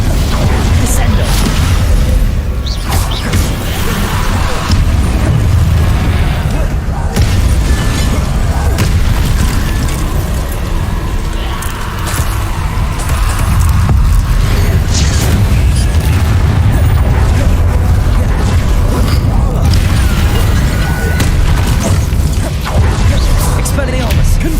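Descendo spell impacts in the Hogwarts Legacy video game land as heavy booms and crashes within a loud, unbroken wall of spell-combat noise, with whooshes and thuds piling up throughout.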